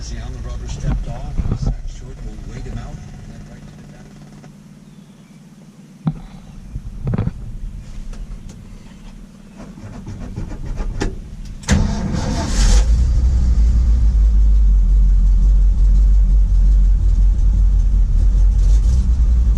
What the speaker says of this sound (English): This truck actually starts pretty easy.